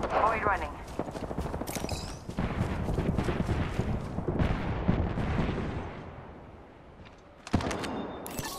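Gunfire in the video game Apex Legends: bursts of shots and impacts roll through a busy, dense mix of game noise, with a player talking over parts of it.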